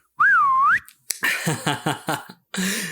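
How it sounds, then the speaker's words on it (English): A person whistles alone, starting with a long, clear swooping tone and then running into a series of short, bouncy notes separated by brief pauses, close and fairly loud. "Anyone know how to whistle?"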